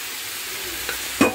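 Mutton is stirred into a tomato masala gravy in a pan over a soft sizzle, with a few louder scraping and clattering stirs near the end.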